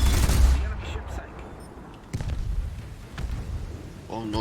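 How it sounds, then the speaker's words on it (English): A Bofors anti-aircraft gun fires in a War Thunder naval battle, heavy booming bursts and rattling shots near and loud, fading into rumbling echoes, with a voice speaking over the action. "Everybody gangster till my Bofors start firing."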